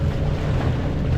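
A sailboat motors at sea in the Mediterranean off the Estérel coast into a headwind, with a steady low engine drone mixed with loud wind buffeting and the wash of waves.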